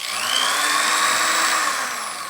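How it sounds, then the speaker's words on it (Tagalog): A close, high-pitched whine of a power drill running steadily off a LiFePO4 battery, easing slightly toward the end. "So ito, testing natin itong barena"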